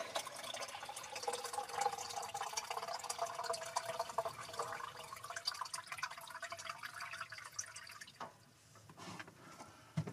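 Filtered water pours in a steady, close trickle for several seconds inside a small van home, then splashes and drips briefly as the stream stops.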